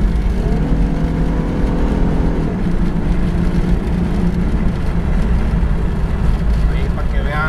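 A Ford Mustang engine with BBK shorty headers drones and revs steadily at high volume, a deep throaty roar with a shift in pitch partway through, no talking.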